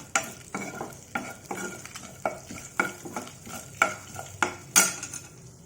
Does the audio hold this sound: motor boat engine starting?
no